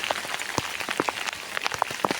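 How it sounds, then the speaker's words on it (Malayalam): Heavy rain falls in misty hills, a dense steady patter with sharper drops landing on nearby surfaces, no voices. "കോടയുണ്ട്, അസല് മഴയുണ്ട്."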